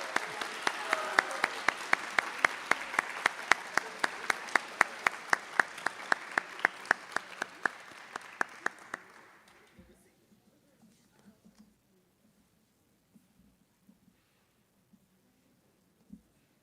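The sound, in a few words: applause for seniors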